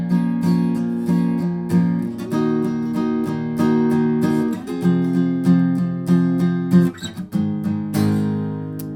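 Acoustic-style guitar strums the bridge chords of a pop song, moving through barre shapes in a steady, rhythmic pattern of close, ringing chord changes with crisp pick attacks and no talking.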